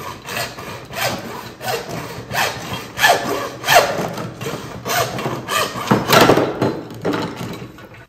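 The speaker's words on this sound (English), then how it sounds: "hacksaw works pretty quick on it" A hacksaw cutting PVC pipe, with a run of rhythmic rasping back-and-forth strokes, close and moderately loud, about a dozen strokes with no speech.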